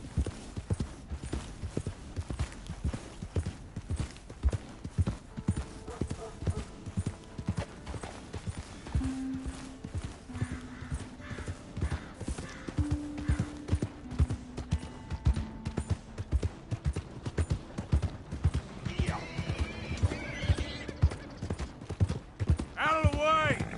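Hooves clip-clop in a steady, rapid galloping rhythm throughout, with occasional voices and a horse's whinny near the end, in the video game Red Dead Redemption 2.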